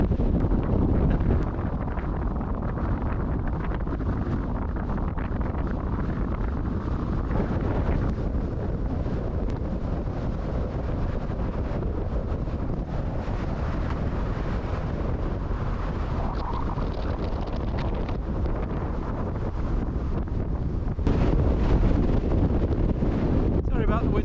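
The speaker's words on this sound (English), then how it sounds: "It's so windy and the path is muddy, so the wind's actually blowing me sideways through the mud." Strong wind on the hilltop of Sponds Hill in East Cheshire roars steadily against the microphone with heavy low buffeting and gusts throughout, swelling louder near the end.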